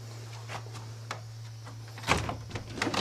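A door at a lake house opens at night as someone walks out, a short clatter and creak after steady soft tapping and a low hum, followed by footsteps and faint outdoor noise.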